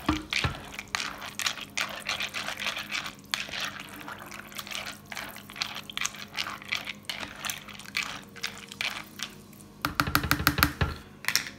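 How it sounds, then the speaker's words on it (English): Cheese tossed with cooked pasta shells: soft, wet, sticky squelches and light clicking as the shells shift, moderately close, ending in a quick burst of rapid tossing. "just toss the cheese around with the pasta shells"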